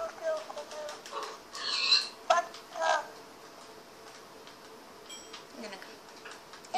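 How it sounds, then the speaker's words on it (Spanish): Pig grunts from Minecraft, a few short oinks in quick succession among other game sounds, moderately loud and close, with quieter game noise trailing after. "¡Otro cerdito!"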